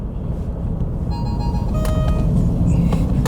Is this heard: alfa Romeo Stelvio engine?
yes